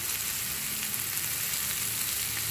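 Zucchini and garlic fry on medium heat with a loud, even, continuous sizzle, close up and steady throughout, no speech.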